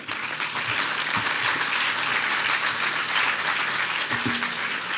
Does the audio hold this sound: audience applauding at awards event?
yes